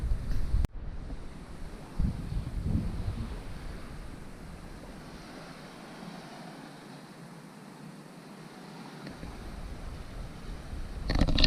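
Steady wash of waves on a Lake Superior-style lakeshore beach at Pictured Rocks, a continuous mid-distance surf roar mixed with wind buffeting the microphone, with no talking.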